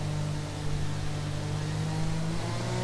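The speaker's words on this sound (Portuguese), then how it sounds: "Deixa só esse carro passar aqui." A Formula 1 car in the F1 2020 racing game holds a steady, close engine drone with a slight rising whine.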